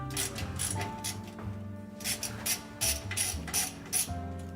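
A power supply is screwed into a PC case during a build. A screwdriver ratchets in repeated bursts of sharp clicking, with brief pauses and a low background hum.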